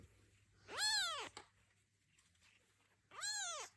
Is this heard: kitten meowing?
yes